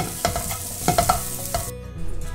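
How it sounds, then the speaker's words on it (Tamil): Coconut rice is stirred and mixed in a pan: several close, scraping spoon strokes with a light sizzle, then the mixing quiets to a softer rustle. "சாதத்தை வந்து இப்போது நம்ம வந்து மிக்ஸ் பண்ணிடுவோம்"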